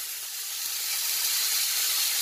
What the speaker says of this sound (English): Just let them sizzle and frazzle away now